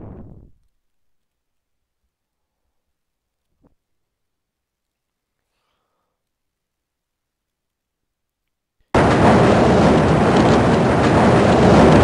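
A train ride in the Half-Life video game begins after near silence, broken only by a brief tone at the start and a faint click. A loud, steady rumbling rush of the tram starts abruptly and carries on to the end.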